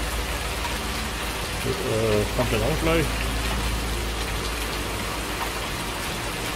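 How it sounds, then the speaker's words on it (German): Steady rain patters and hisses loudly on surfaces outdoors on a farm in Thuringia, continuous and close, with someone speaking briefly over it. "Ich glaube, der Regen ist ein bisschen laut"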